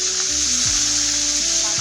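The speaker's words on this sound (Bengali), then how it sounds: "কালো জিরেটা ভাজা হয়ে গেলে দিয়ে নিব আমি পেঁয়াজ বাটা" Onion paste sizzling in hot oil with fried black cumin in a pan for hilsa mustard curry, a loud continuous frying hiss with some stirring, steady and close throughout.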